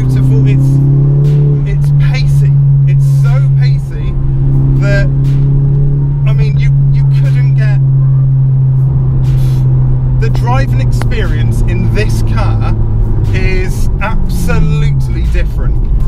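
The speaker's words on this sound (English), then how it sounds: "hearing that turbo whoosh is insane. I mean, I'm only in fourth. I'm in fourth, and I mean, listen to that. It's, oh, the exhaust note is beautiful." A heavily modified 2010 Mk6 Volkswagen Golf GTI pulls in fourth gear, its loud, close exhaust drone holding steady and then falling in pitch while a person talks over it throughout.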